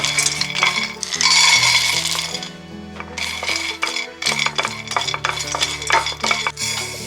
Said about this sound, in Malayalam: ഞാൻ എല്ലാം ഒന്ന് വറക്കട്ടെ.